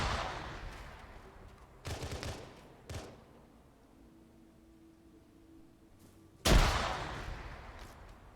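Frag grenades go off in a video game as a few separate sharp blasts with decaying rumbles, the loudest and nearest near the end, with quiet stretches between and no talking.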